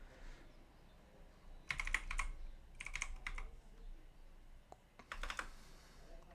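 A computer keyboard typing a folder name in three short bursts of quick keystrokes separated by pauses, close and fairly quiet, with no talking.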